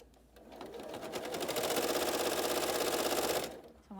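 A sewing machine runs a steady, fast stitch along the edge of a diamond-shaped piece of fabric, close and continuous for about three seconds before stopping.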